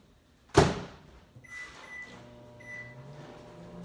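Microwave oven door at home shutting with one sharp, loud clunk, followed by soft button beeps and the quiet hum of the oven starting up.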